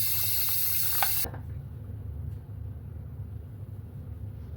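Tap water gushing into a sink while hair dye is rinsed out, a loud steady hiss that cuts off abruptly after about a second, leaving a low hum of room or plumbing noise.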